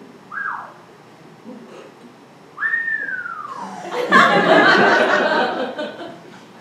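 A man whistles two short upward-sliding notes, the second held and gliding down, close and clear, followed by a burst of loud laughter and chatter from several people.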